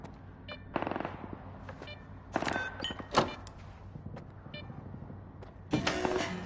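Gunfire in the video game S.T.A.L.K.E.R. 2, scattered sharp bangs and short bursts at irregular intervals over low ambient game noise, moderately loud with a few louder cracks.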